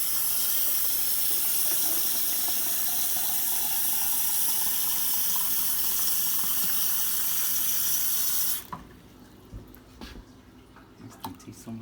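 Steady rush of running water from a tabletop water fountain fills the first eight seconds, then cuts off abruptly, leaving faint drips, light knocks and a little low background voice.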